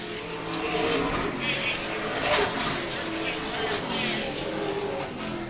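Race cars circle the Star Speedway track in a feature race, engines droning and roaring continuously at mid distance, with a louder surge as one passes, under an announcer's ongoing commentary.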